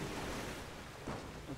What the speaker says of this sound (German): Achso, da hinten ist der Wasserfall